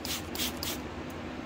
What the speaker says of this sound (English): I keep a soap, alcohol, and oil mix in a spray bottle